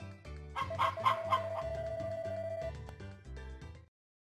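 Chickens clucking in Harvest Moon Back to Nature, short chiptune-like clucks over a looping game melody, clear and close, then stopping abruptly near the end.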